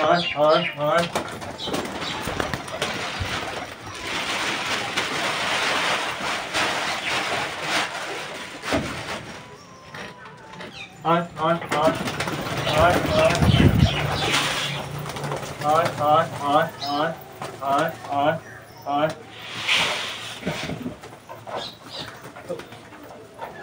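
Pigeons being fed wheat coo in soft repeated bursts, close by, mixed with wing flutters and shuffling, while a person talks over much of it.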